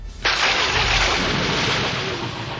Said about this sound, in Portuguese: É noite, chove muito naquele dia